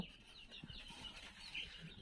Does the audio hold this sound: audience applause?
no